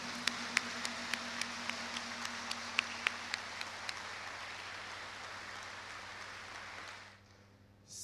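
An audience at a university ceremony applauds warmly. The clapping is an even, fairly soft patter with scattered crisp individual claps, holding for several seconds before fading out abruptly near the end.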